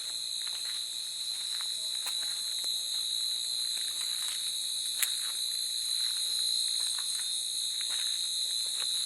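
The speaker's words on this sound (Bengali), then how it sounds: "শুধু ঝিঝি পোকার আওয়াজ, শুধু ঝিঝি পোকা, আর কিচ্ছু নেই।" Crickets at night at a resort in the Dooars give a dense, continuous high-pitched chirring that stays steady throughout, with faint small clicks underneath and no other sound.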